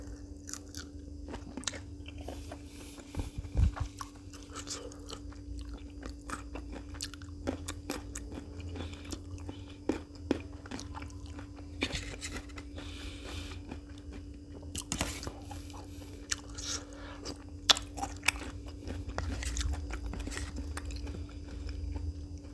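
Crunchy biting and chewing of spicy pounded stink bean salad with fresh shrimp and raw vegetables, steady close-up mouth sounds with repeated crisp bites throughout, no talking.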